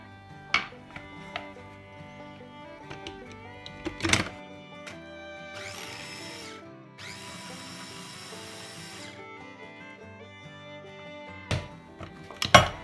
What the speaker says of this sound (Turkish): Robottan geçirince hepsi birbirine karışacak zaten.